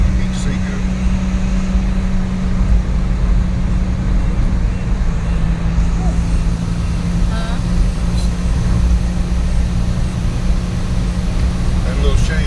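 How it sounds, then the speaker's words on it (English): A car drives through busy morning traffic, its steady engine and road rumble filling the cabin continuously with no pauses, while occupants talk quietly in places. "Lots of traffic this morning."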